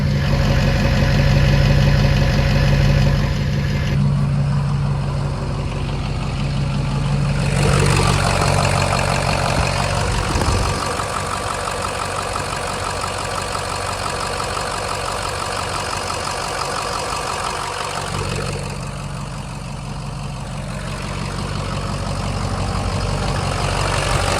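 A truck engine idles steadily while warming up, a close, loud, even rumble lasting throughout, with a shift in tone partway through and no talking.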